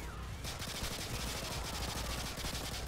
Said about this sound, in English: We're gonna go in guns a-blazin' with the almighty Glock 18.